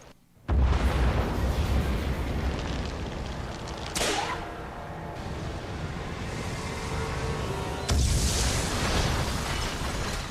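A loud in-game explosion during Resident Evil Revelations erupts suddenly and sustains a roaring rumble, followed by further blasts and a second burst near the end, with no talking over it.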